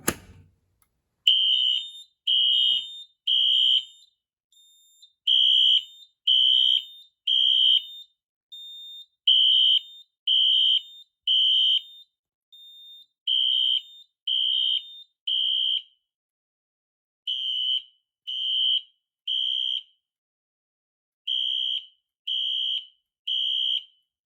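A fire alarm set off by pulling an RSGT pull station sounds during an alarm panel board test. It gives a steady series of loud, evenly spaced beeping pulses that run in short groups with brief gaps and continue alone for the whole stretch.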